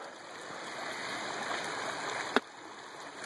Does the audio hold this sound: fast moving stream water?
yes